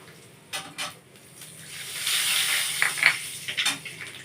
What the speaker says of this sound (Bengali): এই মাছ ভাজার তেলে আমি দিয়ে দিচ্ছি কালো জিরে হাফ চামচের মতন